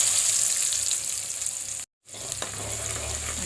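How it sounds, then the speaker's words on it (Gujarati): Chopped onion goes into hot oil already crackling with mustard seeds, hing and curry leaves for Kathiyawadi dhokli nu shaak, giving a steady close sizzle broken by a brief gap, then a renewed frying hiss. "આ એક ડુંગળી સમારેલી છે એ નાખશું."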